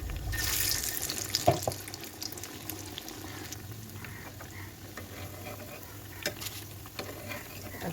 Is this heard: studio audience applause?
no